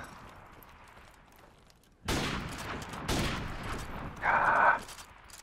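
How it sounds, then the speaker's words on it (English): Gunfire from sniper rifles in Call of Duty Modern Warfare Remastered, a free-for-all sniper match, with a sudden burst of shots followed by another blast and a brief electronic tone, loud and close, without talk. "Matt, your gun shoots quicker"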